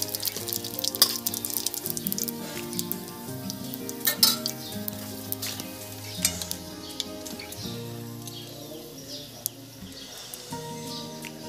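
Radhuni seeds tempering in hot oil for a katla fish and bottle gourd dish: a soft, steady sizzle sitting under prominent background music with occasional light clinks.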